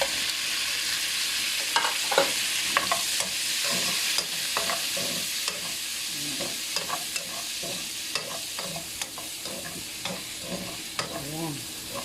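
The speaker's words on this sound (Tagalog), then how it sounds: "Pag na natin yung garlic, ilagay na natin yung gizzard" Chicken gizzards sautéing with garlic in a pan, a continuous loud sizzle broken by repeated scraping and stirring clatter throughout.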